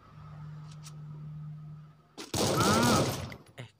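Burst of gunfire from a battle royale video game firefight arrives suddenly after a low steady hum, loud and dense for about a second before trailing off into scattered sharp cracks.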